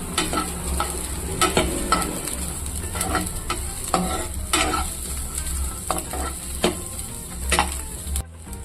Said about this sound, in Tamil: இப்போ வந்து தேங்காய் வெங்காயம் வதக்கியாச்சு.